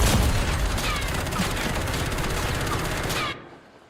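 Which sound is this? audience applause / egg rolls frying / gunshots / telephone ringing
gunshots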